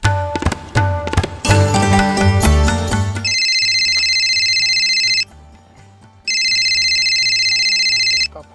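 A mobile phone rings loudly with an electronic ringtone in two long bursts separated by a short pause, following a stretch of music.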